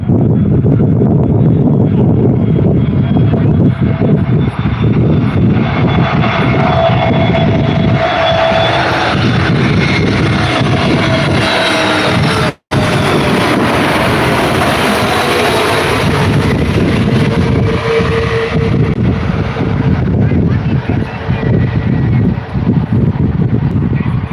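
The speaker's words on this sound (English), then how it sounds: "Touchdown, runway 14 on the Gold Coast." Fixed-wing airliner touching down and rolling out on runway 14 at Gold Coast airport on a humid afternoon, a loud sustained engine roar with heavy wind buffeting, briefly cutting out midway before resuming.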